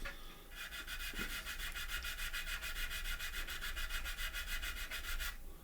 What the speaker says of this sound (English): And we'll just sand that little profile out, just like that, in with our sander